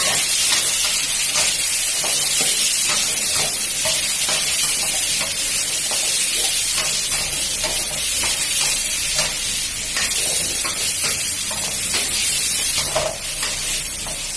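Pineapple and shrimp are stir-fried in a wok over high heat, producing a loud, continuous sizzling hiss with steady scraping and tossing strokes close by and no talking.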